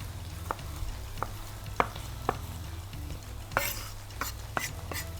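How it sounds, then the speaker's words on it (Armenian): Potatoes are chopped on a board, a series of sharp, irregular knife taps and clicks, fairly close but quiet, over a low steady kitchen hum. "Կտրատում ենք։"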